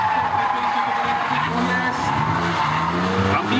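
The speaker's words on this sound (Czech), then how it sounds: "Je vidět, že ty smyky zvládá." A BMW E30 drift car with a 3.5-litre, 211 hp six-cylinder skids through a qualifying run at a 2011 Czech drift series event. Loud, continuous tire squeal blends with the steady engine roar.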